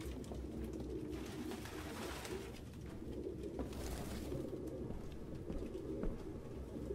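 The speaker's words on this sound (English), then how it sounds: "No human could live with all these fucking pigeons" Pigeons coo steadily in a grimy Detroit: Become Human apartment, a dense, continuous murmur of many birds close by with no talk over it.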